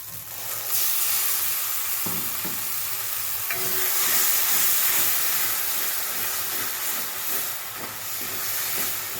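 Ground tomato paste hits a spiced masala frying with small potatoes in a pan, producing a loud, continuous sizzle and hiss with occasional stirring scrapes.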